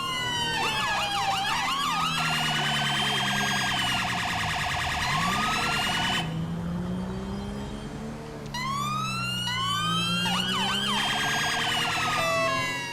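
Police car sirens in GTA V, two wailing and yelping patterns overlapping loudly and continuously, with a brief shift to a different tone midway before the rising and falling sweeps resume.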